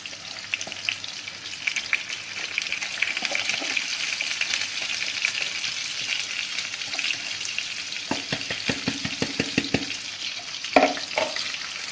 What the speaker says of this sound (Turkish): Bir su bardağı yıkamış olduğum pirinci tavama alıyorum arkadaşlar